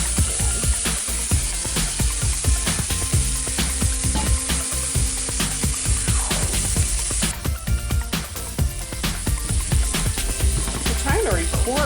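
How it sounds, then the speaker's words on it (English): Chicken and zucchini noodles sauté in a hot pan, seasoned with salt and pepper for a cilantro lime chicken dish, giving a steady loud sizzle broken by frequent sharp clicks and scrapes of a utensil against the pan. "So I'm just gonna let that saute."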